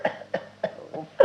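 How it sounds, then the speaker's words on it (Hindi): A person coughs five times in quick succession, each cough short, close and loud, in an even rhythm with no talk. "अरे ये कौन खांस कर बाधा उत्पन्न कर रहा है?"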